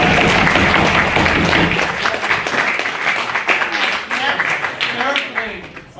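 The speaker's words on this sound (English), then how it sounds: "Can I ask another round of applause for what was his main speech?" Clapping from a debate audience after a speech on abolishing the monarchy, loud at first then thinning into scattered claps as a voice talks over it, ending abruptly.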